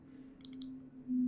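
A computer mouse clicks a few times in quick succession, small and crisp over a low steady hum, with a brief louder rise at the very end.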